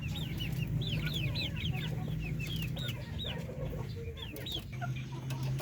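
A caged flock of chickens, including three-month-old young roosters, clucks in repeated short calls throughout, close and lively over a steady low background hum, with no one speaking.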